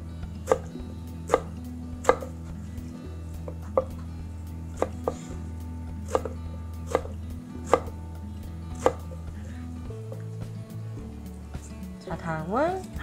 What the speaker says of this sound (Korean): 가지도 마찬가지로 비슷한 크기로 잘라서 준비해 주세요.